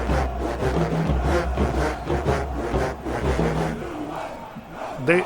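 Southern University versus Jackson State marching band tubas and brass playing a rap mix, a dense, muddy low-end wall of sound with crowd noise mixed in, loud and continuous.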